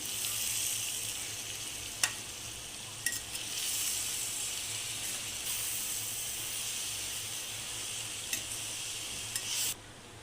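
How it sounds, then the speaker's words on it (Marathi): Soaked moong dal stirred into safflower greens frying in a pan, a continuous close sizzle and hiss with a few sharp utensil clicks against the pan, no talking. "भाजीमध्ये सर्व व्यवस्थित मिसळून घेऊ"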